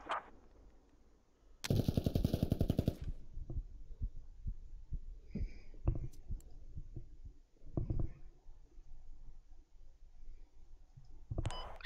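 Heavy gunfire and explosions in a video game battle around a tire factory: a loud rapid burst of automatic fire followed by scattered sharp shots and thuds, with no talking.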